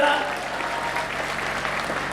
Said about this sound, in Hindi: एक बार ताली वाली मिलके बजाओ यार जरा